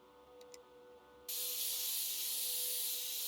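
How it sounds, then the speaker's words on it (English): Compressed air spraying in PC Building Simulator while cleaning a dirty computer: a couple of faint clicks, then a sudden loud, steady hiss that keeps going on its own. "Now we can get our compressed air."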